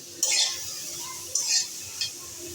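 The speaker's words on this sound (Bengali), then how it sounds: "শিলপাটাতে মসলা করলে সেই মসলার স্বাদ অনেক বৃদ্ধি পায়" Ginger, garlic, cumin and onion are ground on a stone slab with a grinding stone. Three rough scraping strokes sound close by, separated by short pauses.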